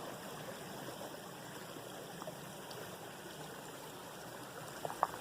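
Grizzly Creek runs beside a trail in the Black Hills, a faint, steady trickle and rush of flowing water with a couple of small splashy ticks near the end.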